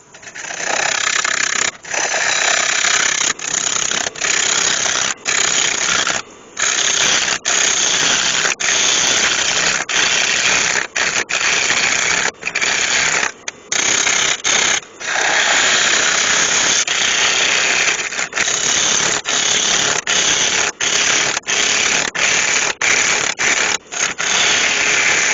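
A wood lathe spins at about 500 rpm while a sharpened tool shapes the bottom of a spalted cherry bowl, producing a loud, steady, hissing, squealing cut that breaks off in brief gaps as the tool lifts.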